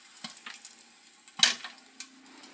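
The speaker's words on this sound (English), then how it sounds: "Now they're starting to pop up." Popcorn kernels pop in a popcorn popper, a few sparse sharp pops spaced apart over a quiet background.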